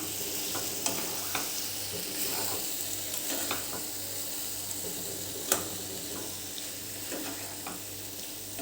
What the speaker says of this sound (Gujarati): પનીર એડ કર્યું છે એટલે હવે એકદમ હલકા હાથે એને મિક્સ કરવાનું